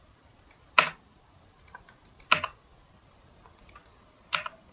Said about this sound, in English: just click into the cell and start typing the student's name